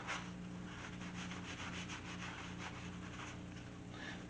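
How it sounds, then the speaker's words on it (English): Excess dye is wiped off a leather wallet with a steady, close rubbing and scuffing sound that continues without a break and without any talk. "wipe the excess off."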